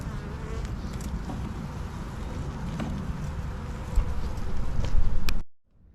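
Honeybees at an open hive during a spring inspection make a dense, steady close-up buzz that swells louder near the end and then cuts off abruptly.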